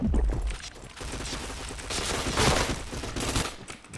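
Gunfire in a shooting video game, loud and dense, with rapid overlapping bursts and volleys rolling on continuously for a few seconds and no voices over it.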